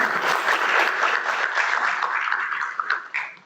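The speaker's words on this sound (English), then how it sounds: "We can give a clap." An audience at a school district board of education public session gives a short round of applause, dense clapping close and loud, thinning out toward the end.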